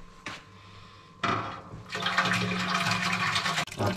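Water pours from a bottle of about half a litre into a pot of honey for making Ethiopian tej wine. Near, it makes a sloshing, gurgling fill of a few seconds, with short clunks before it starts.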